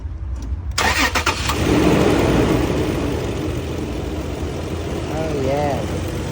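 A 2008 Toyota 4Runner, just fitted with a new coil pack on cylinder four, cranks briefly and fires up, then settles into a loud, steady idle close by, with people talking near the end.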